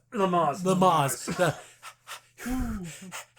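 A voice imitates Lamaze breathing, giving a run of quick, rhythmic panting breaths and gasps up close, with short pauses between bursts.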